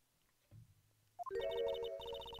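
A telephone ringing in the Phoenix Wright: Ace Attorney video game, a faint low thump followed by a bright electronic ringtone melody that repeats in quick chiming notes.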